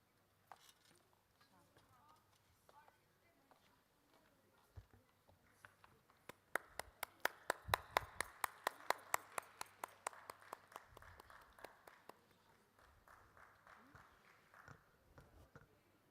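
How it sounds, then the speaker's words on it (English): An audience applauds at a Bharatanatyam dance performance. The clapping starts scattered, swells into a dense, steady round in the middle, then thins out into a few trailing claps, heard at a moderate distance. "A big round of applause, please"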